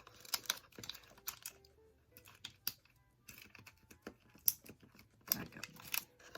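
Adhesive backing is peeled off small Velcro pieces, giving faint close crackles, light tearing ticks and small handling clicks in scattered quiet bursts.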